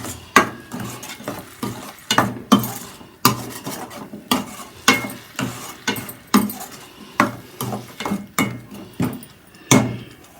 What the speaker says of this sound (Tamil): இந்த மாதிரி இது பண்ணி வதக்கிக்குவோம்.